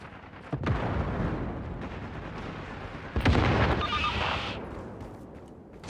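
Gunfire and heavy shots ring out in the tactical shooter Caliber: a sharp blast near the start and a louder, booming shot around the middle, each with a rolling tail over a constant din of battle.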